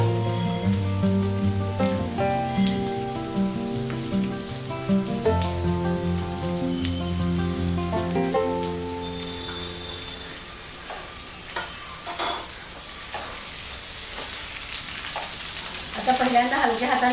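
Stuffed brinjals sauté in a pan over browned onion for Maharashtrian bharli vangi, a steady close frying sizzle with stirring scrapes and some tonal music running underneath.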